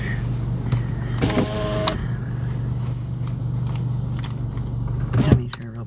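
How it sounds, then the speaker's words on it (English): Car power windows whir in short motor bursts inside a truck cabin, with clicks and rustling around them and a brief clunk near the end. "Gotta make sure I roll up the windows and not leave it down"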